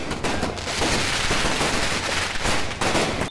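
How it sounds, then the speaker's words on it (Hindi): Fireworks set off by political supporters at a welcome celebration in Adityapur, a dense, continuous crackle of rapid bangs and pops lasting the whole stretch, loud and with no talk. "आदित्यपुर में समर्थकों ने चंपई सोरेन के स्वागत में आतिशबाजी की।"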